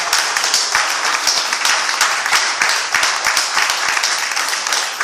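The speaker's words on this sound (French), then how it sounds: "J'aimerais que tu acclames Dieu pour notre papa" A congregation at a religious seminar claps and cheers loudly and steadily throughout, a dense wash of hands with no pause.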